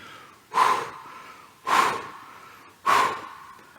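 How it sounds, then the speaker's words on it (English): Three heavy, forceful breaths, evenly spaced about a second apart, each a loud close exhale with a snorting, huffing quality, alone with no talk. "Heavily breathing."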